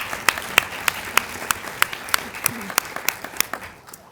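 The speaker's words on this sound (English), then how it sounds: "So let's do another round of applause." An audience at a health care talk event applauds, with evenly spaced sharp claps standing out over a steady wash of clapping that fades near the end.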